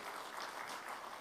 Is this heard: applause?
yes